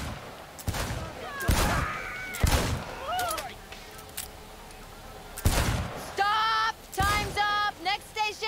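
Several sharp gunshots crack at a shooting range in Cyberpunk 2077, spaced irregularly and loud, with brief voices and tonal game sounds between the shots.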